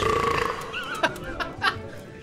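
A hearty belch voiced by a player during a tabletop role-playing game session, imitating a stocky paladin character; two short guttural bursts rise over a throaty, speech-like rumble, fairly close and loud.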